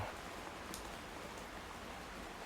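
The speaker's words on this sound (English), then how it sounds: "It's been raining constantly for 3, maybe 4 days now." Steady rain falls during an outdoor walk after days of constant downpour, a soft even hiss of drops with no voices.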